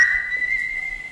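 A steady, high whistle holds one clear pitch for just over a second, loud and close, with faint background noise beneath it in a workshop around an old GAZ 69A vehicle.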